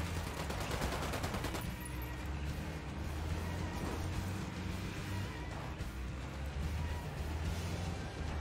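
Rapid bursts of video game gunfire and volleys of shots roll on continuously, loud and close, layered with explosive cracks and a dense rumbling bed.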